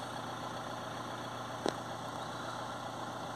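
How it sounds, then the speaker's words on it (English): A Ford Transit Custom 2.2 diesel van with a clogged, soot-restricted particulate filter and its engine warning light on idles steadily and evenly, a close, constant drone broken once by a brief sharp click. "Start the vehicle up."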